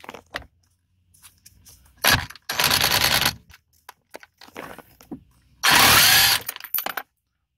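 A Harbor Freight impact wrench backs out a 19mm bolt on a 2006 Nissan Pathfinder's steering column. It fires in two loud, close rattling bursts of about a second each, with quieter clicks and handling noises between them and no talk.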